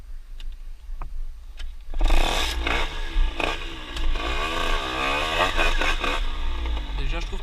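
Two-stroke XP6 Evo 2 motorcycle engine starts up and revs, rising and falling in pitch close by after a short quiet lead-in, loud and buzzing throughout.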